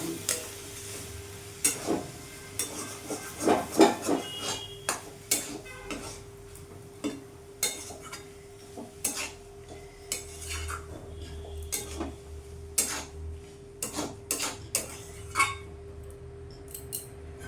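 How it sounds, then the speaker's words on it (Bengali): A vegetarian banana flower curry is stirred in a pan with a metal spoon, giving repeated sharp scraping clinks and taps at an irregular rhythm, close and fairly quiet, with a steady low hum underneath. "ভালো করে মিশিয়ে নেবো"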